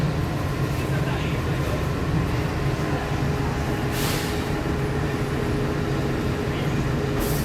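A Walt Disney World monorail carries riders along, heard from inside the car as a steady, rumbling rolling drone with hiss, continuous and fairly loud throughout.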